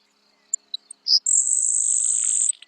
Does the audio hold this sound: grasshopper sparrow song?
yes